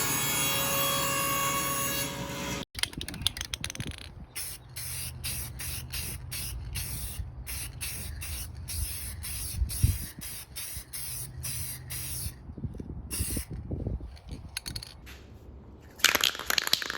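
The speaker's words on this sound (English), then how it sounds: "give this a coat of spray lacquer" Short hissing bursts of spray lacquer hit a wooden frame in a quick, uneven series. Each spray is crisp and close, with a longer hiss at the start and end.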